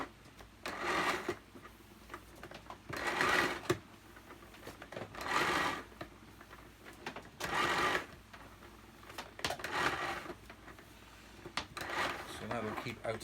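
A Miele S4 vacuum cleaner's cord winding back into the machine: a series of mechanical whirring rattles about every two seconds, moderately close, while a person talks quietly throughout.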